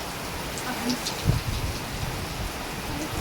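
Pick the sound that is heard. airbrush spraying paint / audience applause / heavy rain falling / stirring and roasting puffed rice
heavy rain falling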